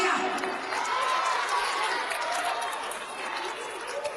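Children applauding at a magic show held in a school or college hall, a steady broad wash of clapping that holds for several seconds, with crowd noise and voices mixed in.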